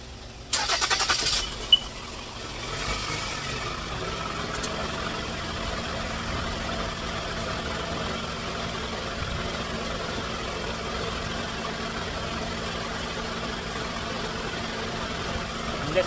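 After a spark plug and injector replacement, a car engine cranks briefly and catches, then settles into a steady, even idle that hums on close by.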